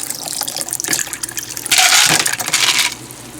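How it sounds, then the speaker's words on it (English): Ice water poured into a container while making jelly, a close gushing splash of liquid that swells midway and tapers off, with a faint clink of ice. "So I've got some ice water. Just going to add enough water."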